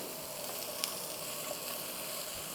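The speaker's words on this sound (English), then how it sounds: "We're going to caramelize these onions just a little bit." Onions caramelizing in a pan over medium heat give off a soft, continuous sizzling hiss, fairly quiet and even, with one brief clink near the start and no voices.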